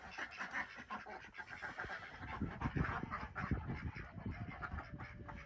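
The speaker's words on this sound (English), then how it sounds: "You okay, ducks?" A flock of farm ducks honking and quacking continuously at close range on a cold day, many birds calling over one another in a busy, noisy chorus.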